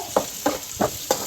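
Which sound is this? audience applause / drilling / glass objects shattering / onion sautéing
onion sautéing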